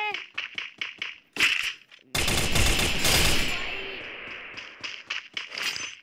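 Gunfire in a shooting video game, a quick series of sharp shots followed by a dense, loud burst of rapid firing, with voices talking around the shots.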